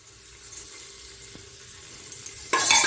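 Grated carrot, 500 grams, goes into a pan with fried cardamom for Bengali carrot halwa. A faint background is broken near the end by a sudden loud burst of sizzling as the carrot hits the hot fat.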